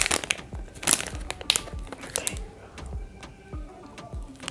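Crinkling wrapping and sharp ticks sound up close as a package is opened, with irregular rustles and small snaps tapering to quieter handling.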